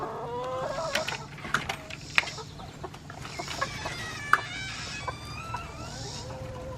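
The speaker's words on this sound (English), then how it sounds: "these chickens, they're waiting on this comfrey" Chickens in a homestead pasture, waiting to be fed fresh comfrey greens, cluck and chatter steadily near the listener, with sharp short calls breaking out here and there and no talking.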